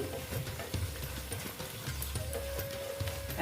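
Pointed gourd (potol) curry being stirred in a pan, a steady scraping and shuffling with soft rhythmic knocks over a faint sizzle, close and moderately loud throughout, no talking.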